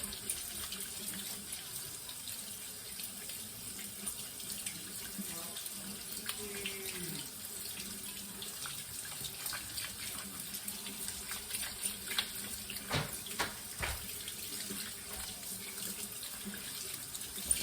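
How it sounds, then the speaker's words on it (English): Steady stream of hot tap water running into a sink, with a potato rinsed under it and occasional knocks and splashes, no talking. "I'm going to rinse it really good in hot water"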